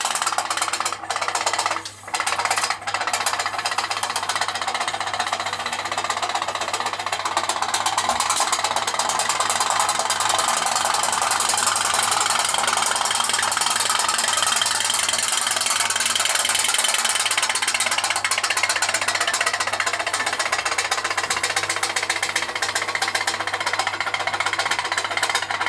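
Steam engine of a radio-controlled model boat running on the water, a steady dense mechanical chatter and hiss that holds loud and continuous throughout, with a low steady hum underneath.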